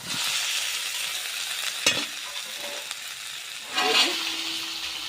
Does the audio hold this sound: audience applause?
no